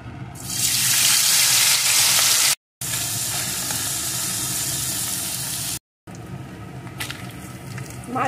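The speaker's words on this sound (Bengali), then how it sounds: "এখন প্রথমে আমি ওই লবণ হলুদ মাখানো মৌরলা মাছগুলোকে দিয়ে ভালো করে ভেজে নেব।" Mourala fish coated in salt and turmeric fry in hot mustard oil, giving a loud, steady, close sizzle that cuts out briefly twice before continuing, with no talking.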